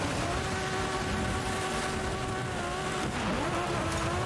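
A McLaren race car in Forza Horizon 5 roars loudly and steadily through an off-road street race event, its engine tone holding high and then dipping briefly near the end, with no talking over it.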